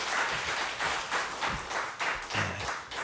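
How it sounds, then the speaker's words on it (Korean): Church congregation clapping to welcome newly registered members, a moderate, uneven round of applause that rises and dips in waves with some individual claps standing out. "박수하겠습니다."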